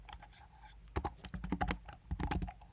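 Computer keys clatter as code is typed, a quick uneven run of close, crisp taps with a dense cluster in the middle, and no speech.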